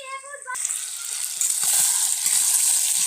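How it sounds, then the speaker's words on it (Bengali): Potatoes and onions fry in a pan, a bright steady sizzle that starts abruptly after a short tonal sound and continues with light clatter underneath. "আলু আর পেঁয়াজ ভাজা করছি।"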